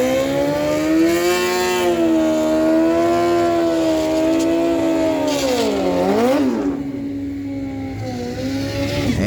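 A Chevy Corvette and a Dodge D100 drag racing at Miramichi Dragway on NHRA day, loud sustained engine roar with rising harmonic pitch as they accelerate, a gear-change dip and swoop, then the sound fading as the cars pull away.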